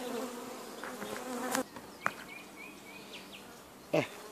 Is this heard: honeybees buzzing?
yes